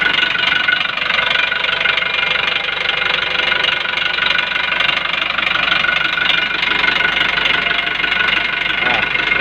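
A Daihatsu-type car engine (the 'dina') running steadily at idle after being started, with a constant, loud mechanical hum and faint knocking throughout, heard up close with no talk over it.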